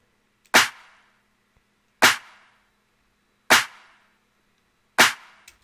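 A beat's snare layered with a clap hits four times at an even, slow spacing, each a sharp, bright smack with a short tail and silence in between, alone and up front.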